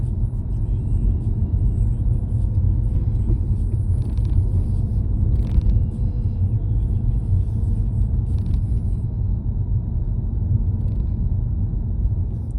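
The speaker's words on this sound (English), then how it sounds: "Let's drive around Wigston." A car driving around Wigston, Leicester, heard from inside the cabin: a steady low engine and road rumble throughout, with faint occasional clicks and rattles over the top and no talking.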